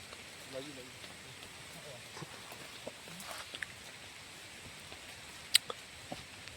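Steady outdoor rain patters on surfaces at Gagariya Ghat in Chitrakoot during a tree-planting event, with scattered sharper drips and distant voices under the wash.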